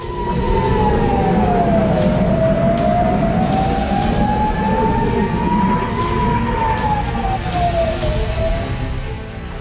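Air raid sirens wail over northern Israel during Hezbollah rocket attacks, a loud sustained tone rising and falling in slow sweeps, with sharp bursts and background noise layered beneath it.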